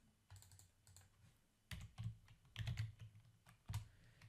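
Keystrokes on a computer keyboard, typed in short bursts with pauses between them while searching for PyCharm, close and clear with no talking.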